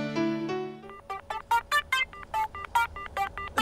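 Touch-tone keypad beeps from a telephone being dialed: a quick run of about a dozen short, clear tones in an uneven rhythm, following a brief sustained tonal sound, close and fairly loud with no talking.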